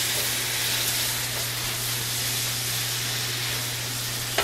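Shrimp sizzling in a hot pan, a steady, even hiss of frying that holds constant throughout at close range, with a faint low hum underneath and no talking.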